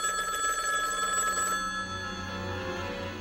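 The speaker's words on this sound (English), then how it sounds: "You just ripped that thing from the wall, and now it's literally ringing off the hook." A landline telephone rings insistently in a scene from the 1993 horror film Leprechaun, its bright electronic bell trilling loudly and steadily, alone with no talk.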